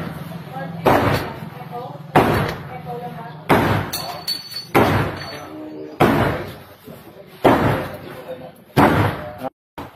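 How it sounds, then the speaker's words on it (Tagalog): A sledgehammer pounding on the main door of a house during a forced entry, about seven heavy, loud bangs at a steady pace, each ringing briefly, with people talking in between. "Ito, makikita ninyo pinupukpok na ng maso."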